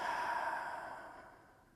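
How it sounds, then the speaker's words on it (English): One slow, deep exhale, a breathy sigh that fades gradually over nearly two seconds, close and alone. "Do some slow, deep breathing."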